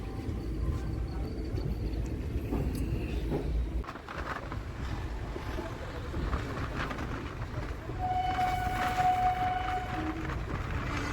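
Puri Jagannath Express train running on the line, a steady muffled rumble and rattle with wind noise, and a faint tonal whine near the end.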